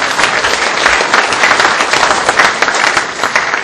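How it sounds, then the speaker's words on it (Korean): Loud, close applause from a room of party council members at a provincial workshop in South Korea, continuous dense clapping across the whole stretch with no talking. "한번 박수로 화답해 주시기 바랍니다."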